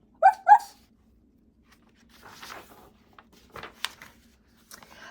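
A human voice imitates a puppy with two quick, close yipping barks in a row, followed by soft scattered rustling and handling noises in a quiet room.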